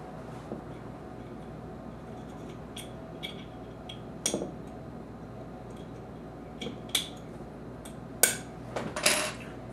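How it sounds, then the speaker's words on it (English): Metal parts of a Springfield Armory 1911-A1 Loaded slide being handled as the firing pin stop is fitted, a series of sharp small metallic clicks and clinks growing louder toward the end over a quiet room hum. "Now I'm going to put the firing pin stop in place before I depress the firing pin."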